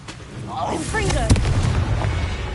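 A Confringo blasting curse explodes in the Hogwarts Legacy video game: a shouted voice leads into a sharp, loud blast with a rumbling low tail that lingers under game noise.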